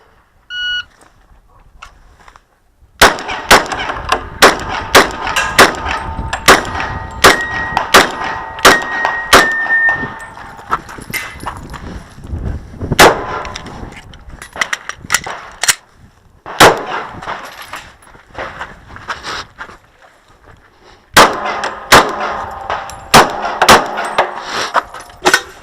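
Glock 22 Gen 3 pistol fired during a shooting competition stage, with a start beep and then many sharp loud shots in quick irregular strings, separated by brief pauses and a quieter gap midway.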